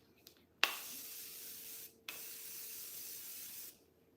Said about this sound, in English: Apply a very generous amount of setting spray.